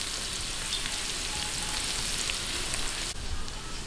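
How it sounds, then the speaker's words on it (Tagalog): Garlic sautéing in oil in a pan as the base for Filipino paella (arroz valenciana), a steady close hiss and sizzle that continues without pause, with no talking. "umpisahan na po natin yung paggigisa"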